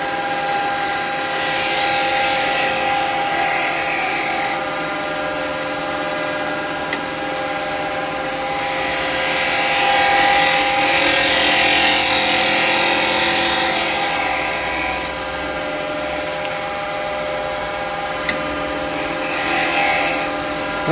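A detail chisel scrapes wood turning on a lathe, giving a steady close rasping hiss over the lathe's constant motor hum, with the cutting swelling and easing across about twenty seconds.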